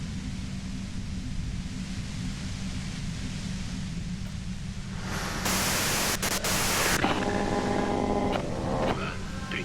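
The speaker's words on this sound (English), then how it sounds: "you can do it through the white noise." Steady hiss of white noise during a board game session, loud and continuous, swelling louder midway with brief sharp bursts, while faint voices murmur underneath.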